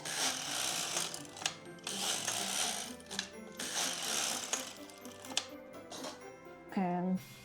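An LK-150 knitting machine carriage is pushed across the needle bed knitting waste yarn for a Christmas stocking, rhythmic sliding clatter in several passes, with someone talking over it.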